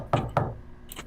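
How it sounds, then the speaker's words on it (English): Two sharp, close knocks on a door, evenly spaced, during a tabletop role-playing session, followed by a fainter third tap, with no talking over them. "He's going to go ahead and politely knock on the door."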